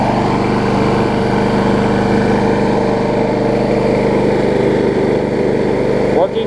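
A Troy-Bilt self-propelled push lawn mower engine runs steadily and loudly at close range, a continuous even drone with a brief change near the end.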